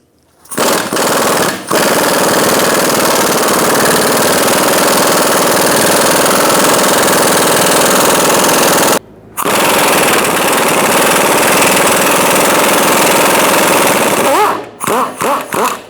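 Power tool driving a 15mm socket to remove a control arm bolt on a 2012-2018 Ford Focus, a loud continuous rattling whir running for long stretches with a brief pause midway, close and alone.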